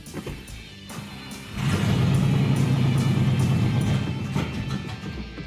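A Peterson Chieftain's engine is cranked and then catches, going from a ticking starter churn into a steady loud low rumble that holds and slowly eases.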